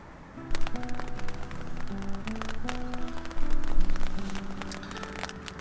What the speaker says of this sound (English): And here's that rain again.